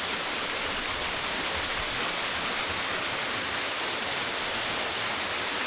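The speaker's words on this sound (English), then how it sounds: "was a very pretty little waterfall" A steady, loud rush of falling water fills the scene, a constant broadband roar of a small waterfall nearby with no other sounds.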